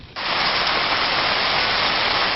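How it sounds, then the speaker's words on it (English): Heavy rain pours down in a dense, loud, continuous hiss after a sudden onset, steady and unbroken throughout, during a monsoon storm near Rio Rancho. "Heavy rain made driving very dangerous"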